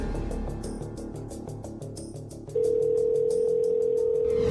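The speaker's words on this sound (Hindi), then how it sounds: "इस मिशन का चीफ रिपोर्टर सुनीता अवस्थी ने इस नंबर पे फोन किया।" A steady telephone tone starts halfway through and holds unbroken to the end, loud and clear over fading background music.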